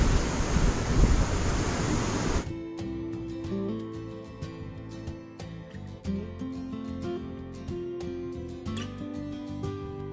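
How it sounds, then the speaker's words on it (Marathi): Sea water surges forcefully into a narrow rocky gully at Bamanghal beach, Hedavi, on the Konkan coast, opening with a loud roaring rush that drops off sharply into quieter splashing and dripping. "या घळीत समुद्राचं पाणी वेगाने घुसतं"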